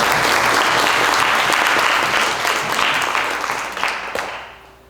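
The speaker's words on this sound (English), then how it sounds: "Please give her a round of applause." A large audience applauds a youth media panelist with loud, dense, sustained clapping that gradually thins out and fades away near the end.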